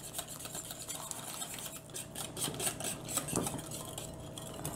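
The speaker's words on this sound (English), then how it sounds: "Mix this up." A utensil stirs custard-powder batter in a bowl, producing steady quiet scraping and soft rhythmic clinks against the sides, close and continuous with no voices.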